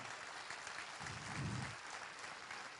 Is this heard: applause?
yes